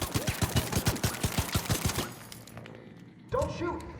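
A burst of rapid gunfire in the video game ARC Raiders, PVE mode, as one player shoots another, with about a dozen evenly spaced loud shots for two seconds, then a quieter tail and a voice.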